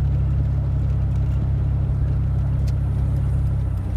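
Chevrolet Blazer engine cruising steadily at about 42 mph in overdrive lockup, a constant low droning hum with even loudness throughout, no talk.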